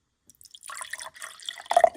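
Water poured into a coffee maker carafe for spiced coffee, a short trickling, dripping splash that builds to a brighter burst near the end, close and fairly quiet.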